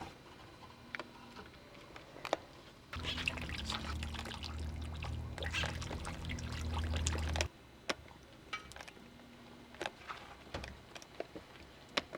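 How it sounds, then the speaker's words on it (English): Liquid clay poured into a shallow wooden trough lined with plaster of Paris and covered with a cloth, a steady pouring wash lasting several seconds at close range, with quieter ticks and small knocks before and after. "The final step in preparing the clay is to pour it into a shallow wooden trough that has been lined with plaster of Paris"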